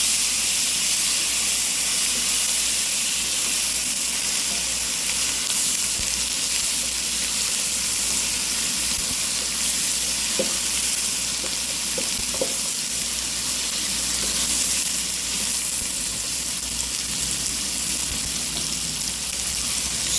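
Chilies fry in a pan with a constant hissing sizzle that holds steady at a moderate level throughout, with a few faint clicks and no talking.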